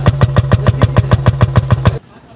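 A 1948 Steiner 180 tractor with a 26 hp engine chugs close by in a steady, evenly spaced rhythm of heavy pulses, then cuts off abruptly near the end, leaving only faint background.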